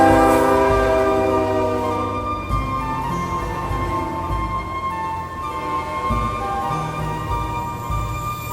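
CN freight trains M313 and Q107 meet and pass, a steady low rumble of locomotive engines and rolling cars with sustained tonal hum, fairly constant in loudness and with no voices.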